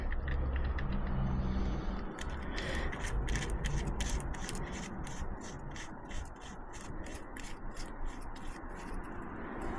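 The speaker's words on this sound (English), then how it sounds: "putting back the drain plug with that new washer on it" Ratchet tightening the oil drain plug, with its new washer, on a Triumph Street Twin motorcycle: a rapid train of close, regular clicks over steady background noise, with rubbing and handling sounds at the start.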